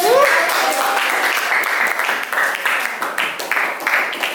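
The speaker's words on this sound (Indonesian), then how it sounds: "Berikan tepuk tangan." Classroom applause for a student who has just finished reading a story aloud, a brief burst of clapping from classmates that stays steady before tapering, with some voices mixed in.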